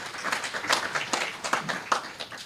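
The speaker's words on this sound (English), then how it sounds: "A round of applause again," An audience at a fatherhood convention claps for a speaker in a short, dense burst of applause, fairly close and steady, with some voices mixed in.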